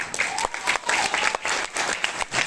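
Audience applause at a seminar, a steady dense clapping from a crowd that fills the room for a couple of seconds at fairly close range.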